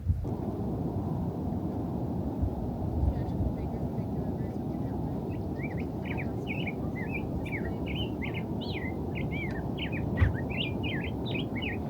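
Bright, rapid bird chirps and tweets repeat over a steady roar of a rushing river in a canyon, the calls fairly close and clearly audible above the noise.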